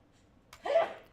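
A single short, faint sneeze in a quiet indoor room, a quick sharp burst that fades within a fraction of a second.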